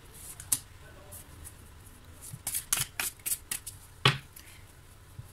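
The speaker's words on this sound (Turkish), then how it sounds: "Tam böyle desteği içinde bir iki kart ters dönmüşken ve ben onlara odaklanacakken bir sürü kart düşüverdi." A deck of tarot-style cards spills and is shuffled by hand, producing a cluster of soft, quick riffling flutters and taps at close range, with one sharper slap of cards near the end.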